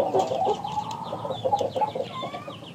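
Rooster clucking steadily at close range on a farm, a run of repeated low clucks with brief higher calls near the end, and no one talking.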